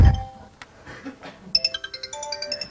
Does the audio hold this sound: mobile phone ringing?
yes